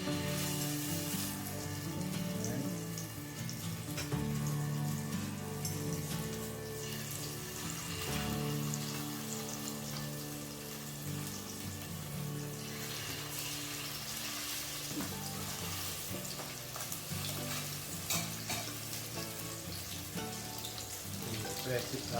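Salmon steak frying in a hot pan gives a steady, fairly loud broadband sizzle that runs through the whole stretch, with faint background sounds mixed in.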